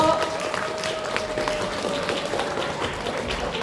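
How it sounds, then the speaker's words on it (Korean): An audience at a lawmaker's legislative report event applauds, a steady wash of clapping from a crowd with some voices and murmur underneath. "다시 한번 용해인 의원님께 큰 박수 보내주십시오"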